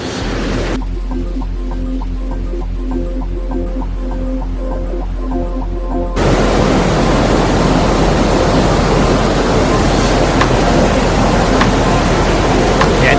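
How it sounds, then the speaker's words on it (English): A small waterfall at the Kravice falls near Mostar, Bosnia and Herzegovina, gives off a steady, loud, broadband rush of falling water. It begins abruptly partway through after a quieter tonal passage, then continues unbroken and close. "Yeah, it's a much smaller waterfall."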